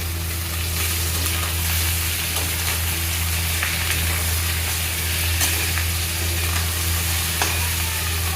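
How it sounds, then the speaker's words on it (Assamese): Duck meat frying with onions and turmeric in a pan, a steady close sizzle running unbroken throughout with faint stirring scrapes and no talking. "এয়া ধুনীয়াকৈ মাংসখিনি ভাজা হৈ গৈছে"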